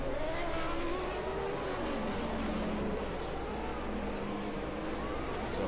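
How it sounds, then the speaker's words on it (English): 1991 Formula 1 race cars at the British Grand Prix drive around toward the starting grid, their engines giving a steady, dense drone with shifting tones as several cars circulate at moderate distance. "So the cars are coming around now, getting ready for the start."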